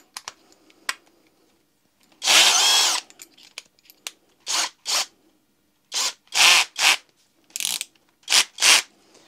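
Parkside Performance PBSPA 12 C3 cordless drill running in a long loud burst, then in a series of short, sharp bursts with brief pauses between, close and clear with no talking.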